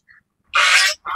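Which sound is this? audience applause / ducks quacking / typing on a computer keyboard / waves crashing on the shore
ducks quacking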